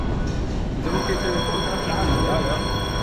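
Kyiv metro train in a station, a loud continuous rumble and roar with steady high-pitched tonal ringing like an alarm or signal bell, while someone speaks over the noise.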